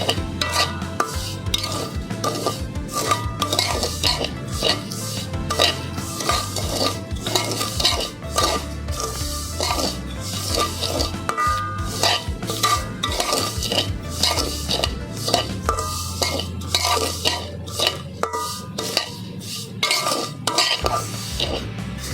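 Vermicelli (semai) frying slowly over low heat in a pan for an Eid sweet dish, with steady scraping and stirring clatter of a utensil against the pan and a soft sizzle underneath, continuous throughout.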